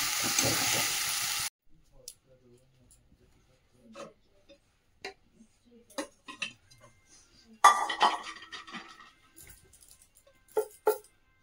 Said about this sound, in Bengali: এবারে একটু ধনে পাতা উপর দিয়ে ছড়িয়ে নাড়িয়ে দেবো